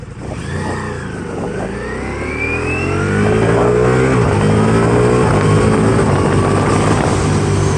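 A 2023 Ducati Diavel V4 motorcycle ridden on a highway, its engine droning loud and close with rising and shifting pitch as it accelerates, wind rush underneath, no talking.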